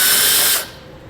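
A power driver spins out a T30 Torx screw beneath a 2021 Jeep, a loud close whirring ratchet burst lasting about half a second before cutting off to a quiet shop background.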